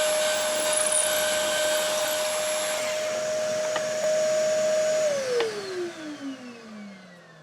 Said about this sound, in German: Deshalb bohren wir jetzt erstmal hier senkrecht durch ein 5 mm Loch.